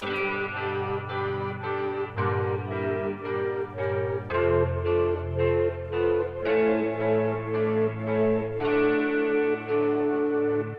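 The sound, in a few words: Chord progression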